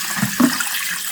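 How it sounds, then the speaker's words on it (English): Water being poured out of a sampling container beside a catfish pond, a short splashing gush with two brief surges and a steady wash of flowing water underneath. "we are going to discharge this water"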